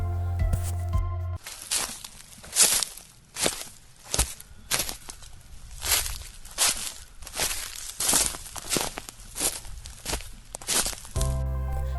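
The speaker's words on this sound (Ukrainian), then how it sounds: "Коли ми йдемо по землі, то листя шарудить у нас під ногами." Steady footsteps crunch and rustle through dry fallen leaves, one after another at an even walking pace, close and crisp.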